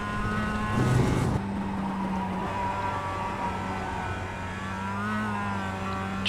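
Production race car at full throttle on track at Lime Rock Park in iRacing, engine droning steadily with shifting pitch and a brief louder surge near the start, continuous throughout.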